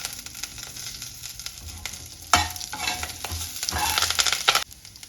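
Curry leaves hit hot oil with a sharp burst of sizzling and crackling, then get stirred with scraping spatula strokes over a continuing fry for bisibele bath, no speech.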